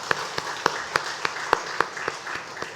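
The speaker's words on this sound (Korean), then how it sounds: "우리 박수로 축하합시다." A church congregation claps in a steady, evenly spaced rhythm of about ten sharp hand claps, moderately close, with a faint murmur of voices underneath.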